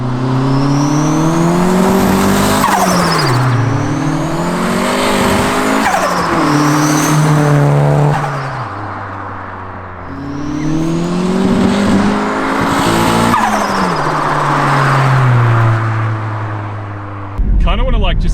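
A turbocharged 4G15 car engine revs hard under boost in repeated rising and falling pulls, each climbing in pitch and then dropping back. It is loud and close, with a voice talking over it.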